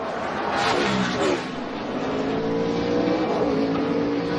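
NASCAR stock cars race on a road course, a loud engine roar swelling and passing with shifting pitch as cars brake and accelerate through a turn, crowd and track noise beneath.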